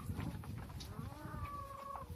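Chickens perched on a feed post at a farm cluck and murmur close by, with short soft calls and one drawn-out note toward the end, over faint background rustling.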